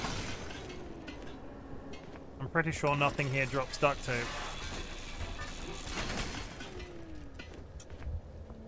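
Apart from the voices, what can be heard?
tearing scrap metal and glass parts off a car in Pacific Drive video game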